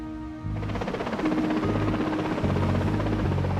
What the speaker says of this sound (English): a rescue helicopter winches up 14 of the survivors and flies them back to Aberdeen